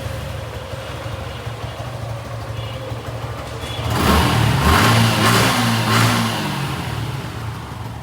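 A 2022 Suzuki Gixxer SF FI ABS motorcycle idles with a steady low hum, then revs up for a few seconds, swelling louder, before settling back to idle, heard close and without speech.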